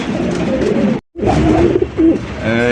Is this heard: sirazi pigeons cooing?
yes